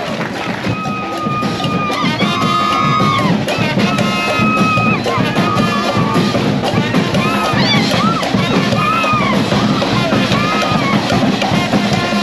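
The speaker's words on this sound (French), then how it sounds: "Applaudissements" Loud, continuous crowd noise of cheering and applause at the 2024 St-Esprit carnival, with tonal, horn-like musical notes rising through the dense din for the whole stretch.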